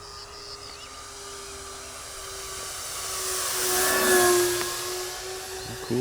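HobbyKing Avios 1900 mm PBY Catalina RC floatplane in flight, electric motors making a steady high whine that swells as it passes closer and then fades slightly, heard outdoors at moderate distance.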